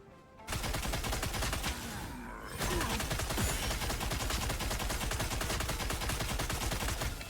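Emma Frost ability firing in Marvel Rivals, a loud continuous rapid pulsing blast that runs almost unbroken after a short pause, near and harsh.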